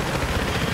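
Helicopter in the video game Battlefield 3, a steady loud rotor and engine rumble filling the short moment with no talk over it.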